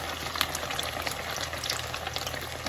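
Shrimp sizzle in a hot pan for a Creole-sauce dish, a steady close crackle of frying with small pops and spits, alone without talk.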